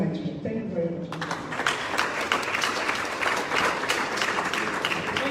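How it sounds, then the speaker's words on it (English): Audience applause at a Nigerian public speaking event, starting after brief talk and then swelling into sustained, dense clapping from a large crowd that carries steadily to the end. "Let's keep the applause going."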